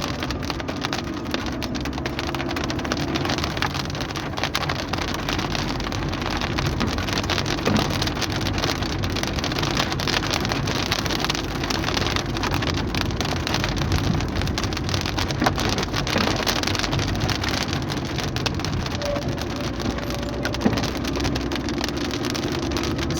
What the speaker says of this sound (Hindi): अभी बारिश हो रही है और आप देखिए मौसम कितना ज़बरदस्त है।